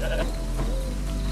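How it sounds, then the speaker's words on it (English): A goat or sheep bleats in the video game Albert and Otto. It is a single loud, close, wavering call over a steady, dense game background, with no talking. "There's definitely a goat and or sheep right above me."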